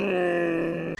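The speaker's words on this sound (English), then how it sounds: "Camel." Camel groaning in one sustained, loud, close call, a low droning moan with a strong steady pitch lasting about a second before it breaks off abruptly.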